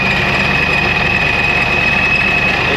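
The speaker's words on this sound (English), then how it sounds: "Pretty sure that this blower needs a rebuild." Car engine idling steadily with a noisy supercharger blower in need of a rebuild, a constant loud rumble topped by a high whine, close by with no talking.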